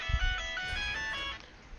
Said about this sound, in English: just listen to my ringing tone, please